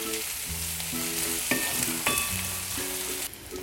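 Peas and carrots stir-fry in a pan with a continuous close sizzle and a few light clinks from the spoon, while a background tone with a steady pattern plays throughout.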